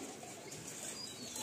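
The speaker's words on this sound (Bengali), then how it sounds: "দেখুন পায়রাগুলো জাস্ট ছাড়তে না ছাড়তেই কীরকম পিক আপ ধরে নিয়েছে পায়রাগুলো" Released Madrasi pigeons take off from a Kolkata loft, a brief soft flurry of flapping wings, faint and close, with no talking.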